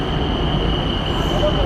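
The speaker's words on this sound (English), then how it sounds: "So here comes the train, the Khu Kot." A train pulls into a station in Bangkok, a loud, steady rolling rumble with a sustained high whine layered on top, close and continuous.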